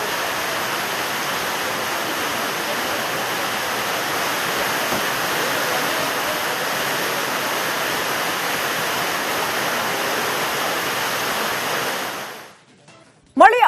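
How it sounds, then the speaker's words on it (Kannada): Heavy rainwater pours and leaks inside Koppal railway station, a dense continuous roar of falling water that stays steady, then cuts off abruptly near the end with a brief sharp noise. "ಮಳೆಯ ಆರ್ಭಟಕ್ಕೆ ನವೀಕೃತ ರೈಲ್ವೆ ನಿಲ್ದಾಣ ಸೋರಿಕೆ ಆಗ್ತಾ ಇದೆ"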